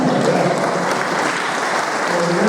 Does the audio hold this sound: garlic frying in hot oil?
no